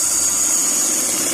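Sewing machine stitching a simple qameez: a steady, close mechanical whir with a constant high whine, continuous and without pauses.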